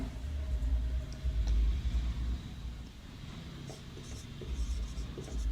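Pen hurrying across paper as notes are jotted down fast, a faint, continuous scratching texture sitting over a steady low rumble in the room.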